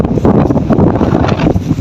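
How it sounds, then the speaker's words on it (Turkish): Strong wind buffeting the microphone in an olive grove, a loud, low, rumbling roar that swells and dips without a break, with a faint rustle of leaves and no talk. "Çok fazla rüzgar var."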